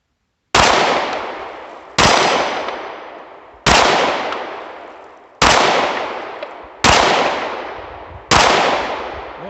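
Six loud, evenly spaced pistol shots from a Canik TP9SA fired standing at a steel ring target, each sharp crack followed by a long ringing decay before the next, with no talking.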